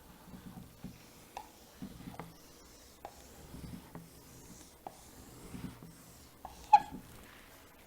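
A pen scratches out a diagram on paper, with soft, close strokes and taps in an irregular rhythm, quiet throughout with one sharper tick near the end.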